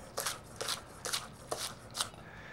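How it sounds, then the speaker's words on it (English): Knife slicing green onions thinly on a cutting board for a Thai bison salad: five crisp, evenly spaced cuts about half a second apart, close and fairly quiet. "now we're going to add 2 bunches of green onions, and we're just going to go ahead and cut those up also"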